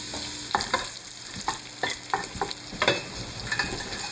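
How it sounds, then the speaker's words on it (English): Bacon browning in a frying pan for a celeriac and lentil soup, a steady sizzle broken by repeated scraping stirs and clicks of a utensil against the pan, close and fairly quiet, with no talking. "Once the bacon is done browning, for the most part, you'll want to use a slotted spoon to remove it from the pan"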